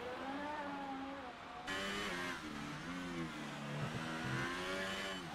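McLaren Formula 1 car at the 2018 Baku street circuit in Azerbaijan, engine note rising and falling steadily through gear changes, a continuous loud mid-pitched drone with shifting harmonic whine throughout.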